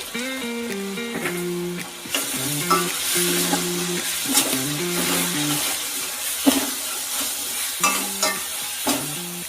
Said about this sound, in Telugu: ఉల్లిపాయలు అయితే తొందరగా వేగడానికి కొంచెం సాల్ట్ వేసుకోవాలి ఇందులోని.